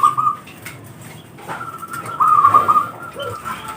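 A perkutut (zebra dove) coos with soft, rolling, whistled phrases, two clear bursts of trilled cooing standing out near and fairly loud over low background noise.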